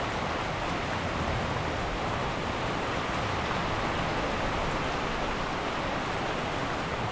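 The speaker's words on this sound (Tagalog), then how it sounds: "konti yung ulan" Light rain falls steadily on a rooftop worksite, a dense even hiss with no breaks.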